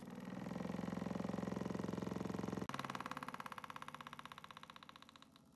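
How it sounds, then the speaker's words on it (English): Small DC hobby motor driven through an L293D H-bridge and switched by an IR remote, a close, buzzing whir with a rapid pulsing rhythm that cuts off sharply midway and resumes at a gradually fading level. "Here is a demonstration of the motor working."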